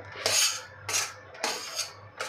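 A spoon scrapes and stirs milk powder in a pan while making saffron modak, four quick metallic scraping strokes in a steady rhythm, close and fairly quiet.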